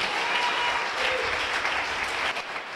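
Dense, steady clapping from a church congregation during a worship service, a loud continuous burst of applause that fades slightly at the end.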